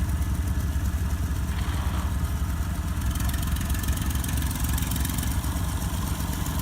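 A farm tractor idles close by, a steady low rumbling throb with a faint mechanical clatter running on evenly throughout, with no talking.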